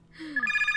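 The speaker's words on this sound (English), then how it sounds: "The phone's ringing." A telephone in a Minecraft game scene starts ringing, a sharp, loud electronic trill rising in over a fraction of a second, close and alone.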